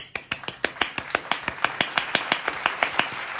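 Clapping at a birthday, a quick run of crisp, close hand claps from what sounds like one person, about twenty sharp hits in a steady rhythm that speeds up slightly, with no talking over them.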